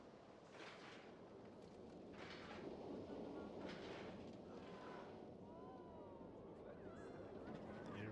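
A monorail passes through a snowy theme park in a video game with a faint, steady rumble and rolling hum under a soft background wash.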